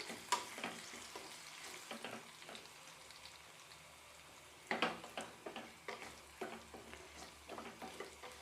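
Spices for pepper rasam temper in hot oil, crackling and spitting in quiet bursts, with a sharper cluster of pops midway and steady faint sizzling throughout.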